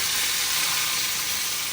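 Asafoetida and curry leaves dropped into hot oil with mustard seeds for a tempering, giving a steady, loud, bright hiss of frying that holds unchanged throughout.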